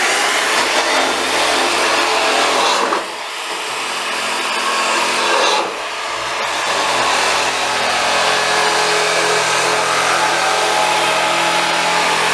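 A loud motor drones steadily, dipping briefly twice as if easing off or moving away, then returning to a constant whine.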